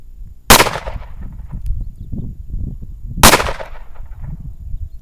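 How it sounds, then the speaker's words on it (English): Two sharp gunshots from a handgun or rifle, the first about half a second in and the second near three seconds later, each loud and close with a brief ringing tail, no talking. "Eddie, go ahead and shoot."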